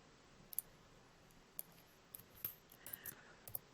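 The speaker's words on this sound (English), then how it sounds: "So I'm going to type it out here." Someone types on a computer keyboard with light, irregular clicks of the keys. The strokes are quiet and come in short clusters over a low background hiss.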